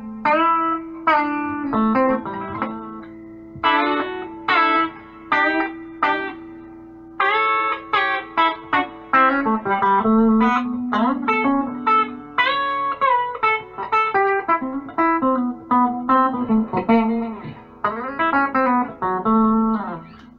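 Partscaster electric guitar played on its back (bridge) pickup: a steady run of picked single notes and short chord stabs, close and fairly loud, with no talking.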